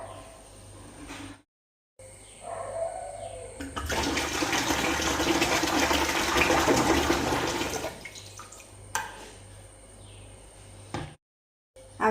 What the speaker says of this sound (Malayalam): അങ്ങനെ ലാസ്റ്റിലെ 8ാമത്തെ കുപ്പി വെള്ളം കൂടെ ഒഴിച്ചു കൊടുക്കുക